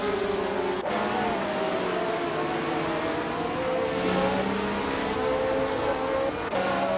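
Video game race featuring 1976 Formula One cars, a continuous loud engine drone with several overlapping engine tones rising and falling as the cars run through the gears.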